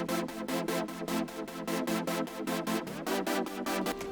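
Synth chords pumping with sidechain compression, rapid rhythmic ducking and swelling in a steady bounce, with a chord change partway, moderately loud and alone.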